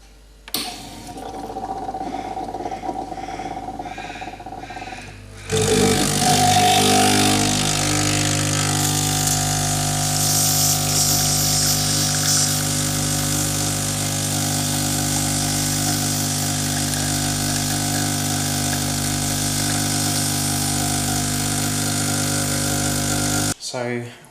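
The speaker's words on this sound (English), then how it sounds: "It's a dual boiler coffee machine. Just recently it has been leaking coffee from the portafilter." A Breville BES900 dual boiler espresso machine, leaking coffee from the portafilter, starts its pump with a loud steady buzzing drone that runs for nearly twenty seconds, preceded by a few seconds of speech.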